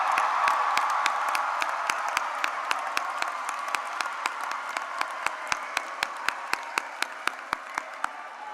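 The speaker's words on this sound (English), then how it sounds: "please rise and accept your round of applause." Audience applause at a high school graduation ceremony as early graduates stand, a soft wash of clapping with a few sharp individual claps standing out in a regular beat, moderately distant.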